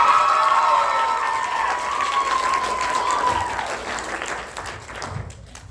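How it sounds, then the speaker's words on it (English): A crowd at a youth theatre cabaret applauds and cheers for a performer, loud and dense at first and then fading out near the end, with a sustained tone lingering over the start. "Let's give a round of applause for Reagan out there"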